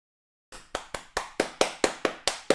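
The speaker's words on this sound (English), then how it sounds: "I'll clap for myself." Nine sharp hand claps in a steady, slightly accelerating rhythm, close and alone, each clap crisp with a short decay.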